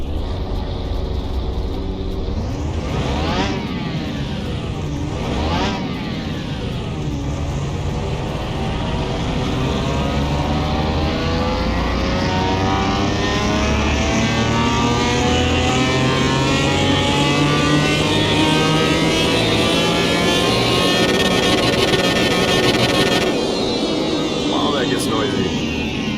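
In Car Mechanic Simulator 2021, a car engine revs on a dyno: two quick blips, then a long, steady climb of loud, rising engine tone that cuts off near the end.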